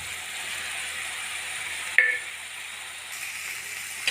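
Potato and brinjal fry in a pan as cabbage is added, giving a steady soft sizzle with one sharp clatter of the vegetables and utensil partway through.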